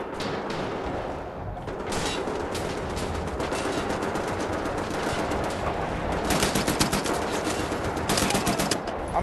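Rapid automatic gunfire in Wolfenstein: The New Order, sustained bursts of machine-gun shots, loud and close, with sharper clusters of shots toward the end.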